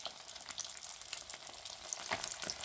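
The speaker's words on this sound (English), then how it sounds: "Can you hear that sizzle?" Steady frying sizzle of small crappie fish in a pan, with sharp crackles and spattering pops throughout, fairly close.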